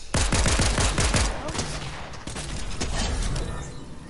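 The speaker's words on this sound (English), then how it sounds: "Getting shot at more." Loud bursts of rapid gunfire from a Fortnite match, with rattling automatic volleys at the start, then more scattered shots continuing for several seconds in close range.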